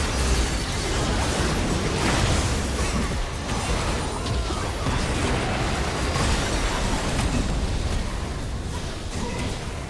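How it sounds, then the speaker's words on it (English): A turret explosion in League of Legends erupts as a dense, loud burst of crashing, crackling noise that stays busy and sustained rather than ending in a single clean boom. "Blue team's turret has been destroyed."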